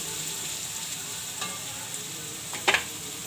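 Garlic chutney with turmeric frying among raw papaya pieces in a pan, a constant close hiss with two sharp utensil scrapes or clinks, the louder one near the end, no talk.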